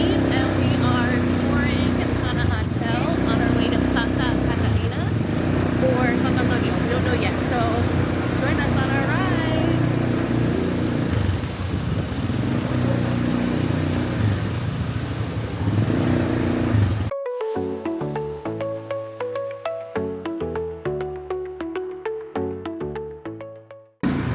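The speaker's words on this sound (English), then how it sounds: "And we're on our ATV" An ATV engine droning steadily while riding near Lake Atitlán in Guatemala, a loud continuous motor roar with wind, with talk over it, before giving way to music.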